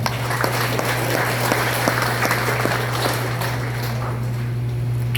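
Steady applause from a church congregation, continuous clapping throughout with a low constant hum underneath, fairly loud and sustained.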